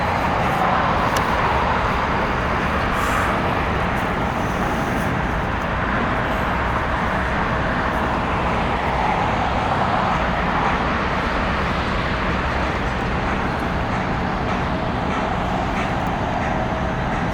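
A VivaAerobus airliner departs LAX, its engines a loud, continuous broadband roar that stays steady and dense throughout, with no talking.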